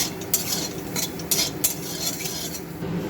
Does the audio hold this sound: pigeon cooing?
no